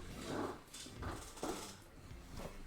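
A pet dog indoors gives four soft whining, growling vocalizations in short bursts spaced about half a second apart, close to the microphone and without talk over them.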